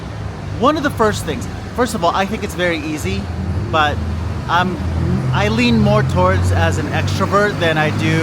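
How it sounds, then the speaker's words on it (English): Morning street traffic in Guanajuato, with trucks, buses, taxis and cars rumbling steadily in the background under continuous close speech from someone talking throughout. "so I apologize if there's a lot of sounds from cars"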